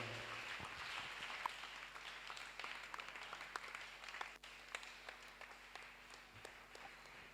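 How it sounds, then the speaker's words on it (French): Congregation at a prayer meeting clapping and cheering to acclaim Jesus, a dense, steady wash of applause with scattered sharper claps throughout. "nous pouvons acclamer très très très fort le Seigneur Jésus"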